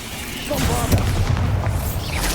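A Bombarda blasting spell goes off in the Hogwarts Legacy video game: a deep, booming explosion rumbles over a dense, continuous battle din, with a voice talking over it throughout.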